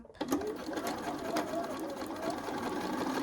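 A sewing machine stitches fabric in a quick, steady mechanical whir with rapid needle ticks, running close and fairly quiet throughout, with faint background chatter.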